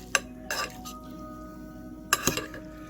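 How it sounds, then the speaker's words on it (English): Utensil clinking and scraping in a bowl while stirring Nissin Geki chili-infused fiery hot chicken instant noodles with liquid, a few sharp clinks near the start and another cluster toward the end, close and fairly quiet. "And now we just stir it up, and that's supposed to be it."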